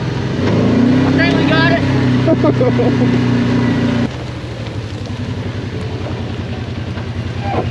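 A vehicle climbs a snowy hill in two-wheel drive, its engine droning loud and close with a rising revving tone before easing to a lower, pulsing rumble, while people talk over it.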